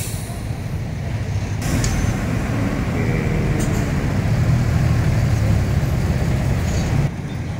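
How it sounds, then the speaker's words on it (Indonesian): A Sinar Jaya double-decker Jogja bus sits at a bus terminal at night, giving a steady, loud low engine rumble with a broad hiss and faint brief clanks, with no one talking. "Di sini ada bis Jogja double decker Sinar Jaya."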